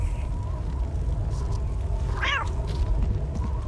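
In the video game Postal 2, a cat lets out a single short meow partway through, heard over a steady low ambient hum.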